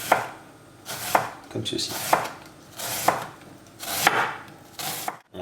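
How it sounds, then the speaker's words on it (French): A kitchen knife chops halved onions finely on a cutting board, about five distinct, evenly spaced strokes, close and crisp, and a voice briefly speaks near the end. "On a coupé les oignons."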